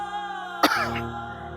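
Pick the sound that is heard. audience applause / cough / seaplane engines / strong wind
cough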